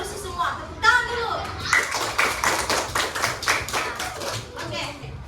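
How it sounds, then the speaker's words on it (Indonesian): Schoolchildren in a classroom clap their hands together in a short burst of rhythmic claps, mixed with a teacher's and kids' voices around it. "Tepuk tangan dulu."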